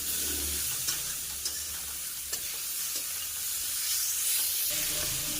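Beetroot seasoned with salt and turmeric fries in a pan with a dense, continuous hiss and sizzle, punctuated by a few light stirring clicks, close and steady with no talking.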